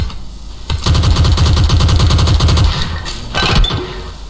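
Rapid automatic gunfire from a shooter video game tournament match, loud sustained bursts of evenly spaced shots lasting a few seconds, followed by a shorter burst near the end.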